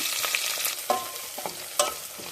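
Onions and green chillies fry in a mix of oil and ghee, giving a steady close sizzle with a few brief stirring scrapes and no voices.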